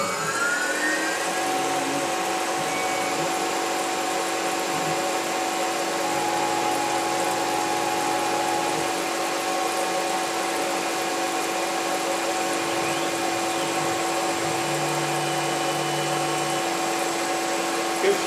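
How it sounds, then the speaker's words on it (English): A Tormach PCNC 1100 CNC mill roughs aluminum with a Lakeshore Carbide aluminum shredder roughing end mill, producing a steady, loud, continuous machining whine with a sustained tonal hum that runs unbroken throughout. "Lakeshore Carbide called the aluminum shredder. It's a roughing tool that does a very nice job on aluminum."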